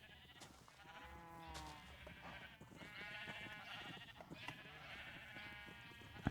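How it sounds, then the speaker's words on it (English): Sheep in the Minecraft video game bleating repeatedly, several short wavering baa calls in succession over a quiet background, with no talk. "I decided to take care of some sheep, lower the sheep numbers."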